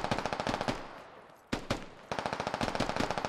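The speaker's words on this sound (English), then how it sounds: "They're shooting across." Automatic weapons fire in the tactical shooter game Squad: sharp rapid bursts of rounds, a long rattling volley, a brief pause, a single heavy shot, then another sustained burst, loud and close.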